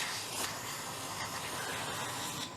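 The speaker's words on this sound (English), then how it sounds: "I'm just going to take some of this little carb cleaner here and shoot it around that" Carb cleaner sprays from an aerosol can around the carburetor float bowl of a 1999 Kawasaki ZRX1100 motorcycle, a steady close hiss held for a few seconds, on its own with no talk.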